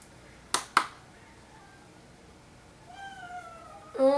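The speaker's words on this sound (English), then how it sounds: "Oh, you can also hear my dog probably now." A dog gives a faint, high, drawn-out whine from the background, rising near the end. Two sharp clicks come earlier over quiet room noise.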